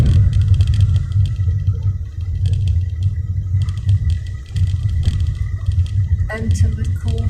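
A car crossing a narrow two-way bridge near Lake Vyrnwy in mid Wales, heard from inside as a steady low road rumble with faint clatter from the tyres, continuous and close.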